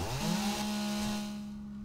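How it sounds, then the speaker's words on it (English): A chainsaw in the video game 7 Days to Die cuts into a feral zombie, a close, buzzing engine drone that holds a steady pitch and then fades slightly toward the end, with no talking. "Let's see what this chainsaw will do on a feral."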